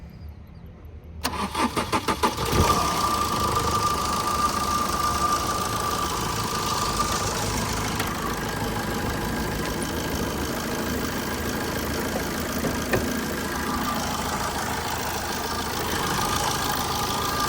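A 2010 Tata Vista Terra Quadrajet diesel car cranks over and starts after a second of quiet, then settles into a steady, close, clattering diesel idle that runs on evenly.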